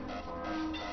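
A train running a character over in Half-Life: Blue Shift, a steady rumbling rail roar with a tonal horn-like hum, loud and continuous through the whole brief moment.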